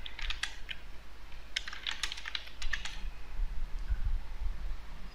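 Keys tapped on a computer keyboard in short clusters of light clicks against a low background hum, with a pause between bursts.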